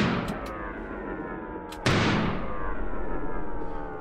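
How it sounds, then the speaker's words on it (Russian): Kalashnikov assault rifle fired on a shooting range: a couple of sharp, loud reports, each followed by a long ringing echo that slowly decays. "стрелок готовит к выстрелу автомат Калашникова. Сейчас первый выстрел"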